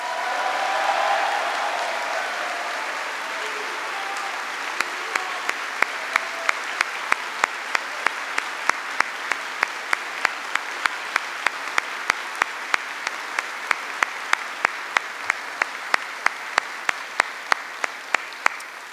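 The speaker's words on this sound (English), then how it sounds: "Please give him an extraordinary round of applause." A large audience at a Veterans Day gathering at Yongsan Garrison in South Korea applauds a Medal of Honor recipient; clapping swells then settles into a long, steady ovation with a few sharp, close claps standing out.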